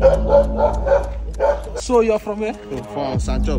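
A dog barks and yips repeatedly at close range, with people talking over and between the barks.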